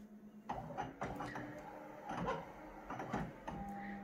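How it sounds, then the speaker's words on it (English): A flatbed scanner running a scan of an energy drink can ring pull, heard as faint mechanical clunks and whirring motor pulses at irregular intervals, with a brief steady tone near the end. "Scanner just made a noise"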